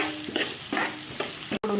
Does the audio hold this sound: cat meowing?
no